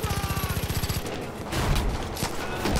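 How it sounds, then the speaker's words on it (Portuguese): Automatic gunfire in the video game Far Cry 5, a steady rapid string of evenly spaced shots for about a second, followed by louder impacts and chaotic combat noise. "Deu um headshot ali sem querer"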